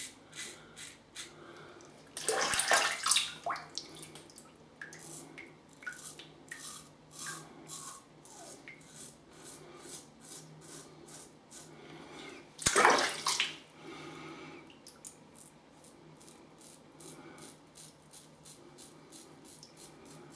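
A Merkur 34C safety razor scrapes against the grain of facial stubble in short rasping strokes, steady close scratching with a couple of louder bursts of rubbing, no voices.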